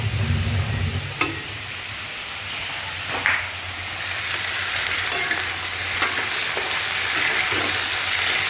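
Onions fry in a pan with a continuous close sizzle, broken by a few scraping stirs of a spatula.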